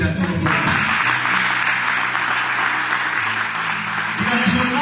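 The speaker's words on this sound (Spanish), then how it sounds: "Denle un aplauso fuerte a todos." Steady applause from a church congregation carries on for several seconds, with a voice briefly audible at the start and end.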